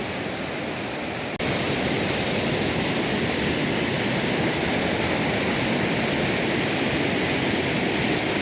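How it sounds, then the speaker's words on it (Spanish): A mountain stream on the trail toward Machu Picchu rushes loudly and continuously close by, a dense broadband roar of flowing water that jumps louder after a brief moment as it is approached. "Toca cruzar este arroyo."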